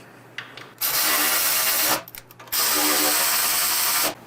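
A power tool drives thread-locked bolts into a motorcycle fairing lower on an ST, with two sustained whirring bursts, the second longer, separated by a brief pause and small clicks, close and loud.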